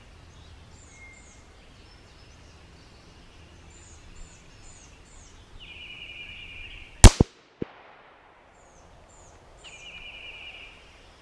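A single sharp, loud crack from a Marlin 17V .17 HMR rifle fired at a paper target outdoors, then a brief echo, with birds chirping softly before and after.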